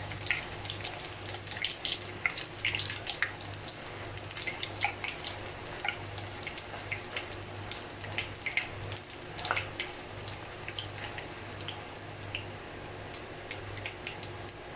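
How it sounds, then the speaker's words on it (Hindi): Puris deep-frying in hot oil, a continuous soft crackle and scattered sizzling pops, faint and steady with a low hum beneath. "इसी तरह से सारी पूड़ियाँ फ्राई कर लूँगी मैं"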